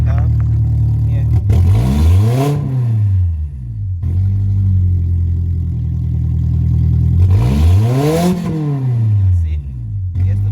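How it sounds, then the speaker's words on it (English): A car with poor engine performance, high fuel consumption and a suspected restricted exhaust from a clogged catalyst is revved twice, each rev climbing sharply to around 5,000 rpm and falling back to a loud, steady idle, close up. "let me start this car and rev it"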